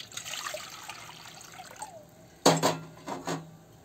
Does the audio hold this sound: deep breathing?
no